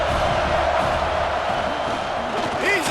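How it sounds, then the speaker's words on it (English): Home crowd roaring and cheering in the College Football 26 video game, a dense, steady stadium din that holds loud throughout with a rising whoop near the end. "how nice is it to have the home crowd going absolutely bananas?"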